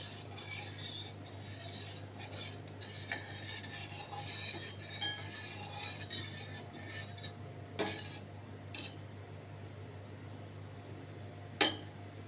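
A spoon scrapes and knocks softly against a pot of black urad dal porridge over a low flame, in irregular strokes over a low steady hum, with a few sharper clinks.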